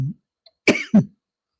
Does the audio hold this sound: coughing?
yes